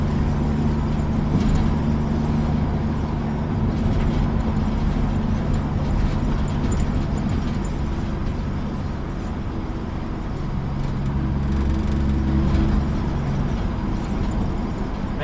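A 1958 GMC Apache Fleetside pickup cruising on UK roads: a continuous low engine drone with road and wind rumble heard from inside the cab, steady and fairly loud throughout.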